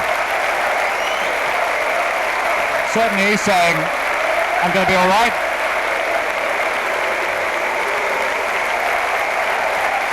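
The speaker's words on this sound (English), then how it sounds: "Acknowledging the cheers of the crowd." A large football crowd at a Leeds United versus Swindon Town match applauds and cheers a player in a steady, dense roar, while a commentator talks over it.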